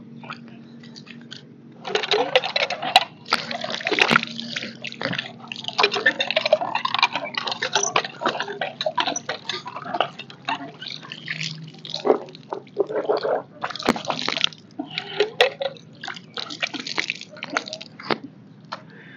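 Water runs down a channel in a Punjabi village and churns into foam, a steady wet rushing and splashing with scattered splatters and drips throughout, fairly close and unbroken by any talk.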